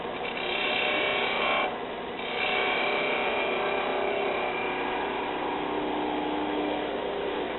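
A skew chisel cuts wood on a lathe while turning a balloon ornament, giving a steady, close scraping rasp that drops out briefly near the start and then continues evenly without speech.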